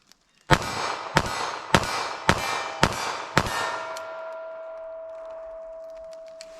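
Six rapid .380 ACP pistol shots from a Ruger LCP at an outdoor range, fired at a target 14 yards away, each a sharp, loud crack about half a second apart, followed by a ringing tone and fading echo.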